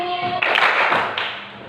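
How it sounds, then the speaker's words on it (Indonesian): A group of students in a classroom give a single burst of hand clapping that swells and lingers for about a second, breaking in after a voice and fading back to room noise. "Kalau ibu bilang siang, kalian tepuk Tangan sekali."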